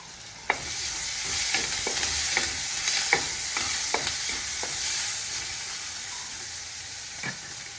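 Steady sizzling of curry leaves and pandan leaves frying in hot oil, with crackles and pops scattered throughout, close and continuous.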